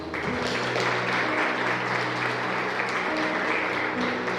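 Church congregation applauding during a worship service, sustained loud clapping from many people with steady instrumental music droning underneath throughout.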